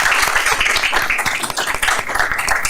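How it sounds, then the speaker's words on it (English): A school board meeting audience applauds a chorale after its performance, a thick continuous roar of clapping hands throughout. "let's give them all a round of applause and thank them for being here tonight"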